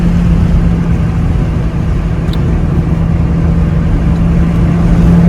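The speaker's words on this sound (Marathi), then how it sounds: "आपल्या व्हील बेअरिंगचं काम आहे खूप आवाज मारतोय गाडी चा जेव्हा चालते तेव्हा" Car with a worn, noisy wheel bearing drives along, giving a steady, continuous low road rumble and drone with a persistent hum throughout, close and fairly loud, with no talk.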